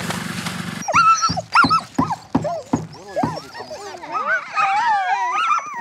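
A dog barks in a burst of sharp, closely spaced yaps, then shifts into high, wavering whimpers and whines, loud and close with no talk over it.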